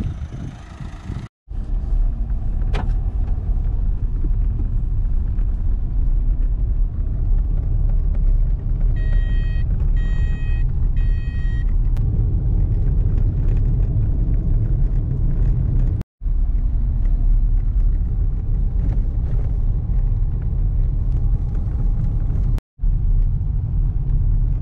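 A car drives along a road toward a town with a mosque and mud houses, its steady engine and road rumble continuous throughout with a few brief dropouts and a short electronic beeping partway through.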